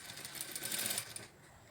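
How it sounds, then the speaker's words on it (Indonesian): A sewing machine topstitches along an invisible zipper on a garment bodice: a quick, close burst of rapid stitching clatter lasting about a second, then cutting off to quiet room tone. "Kembalikan stikannya ke normal, lalu jahit tindis."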